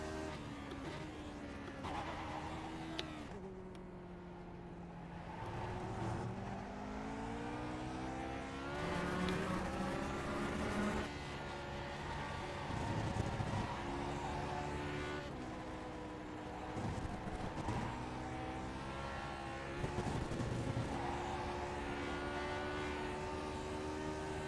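Lotus 49 race car engine lapping Watkins Glen in iRacing, a continuous loud harmonic drone that rises and falls through gear changes and corners, with the pitch repeatedly climbing under acceleration and dropping on downshifts.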